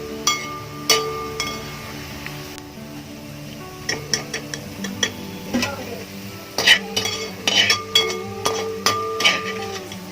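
Fried onions being scooped out of hot oil for Kerala-style beef kabiri biriyani, with sharp metallic clinks and scrapes of a ladle against the pan over a low background, spaced irregularly through the clip.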